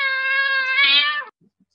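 A cat gives one long, loud, clear meow that ends abruptly, with silence after it and no talking.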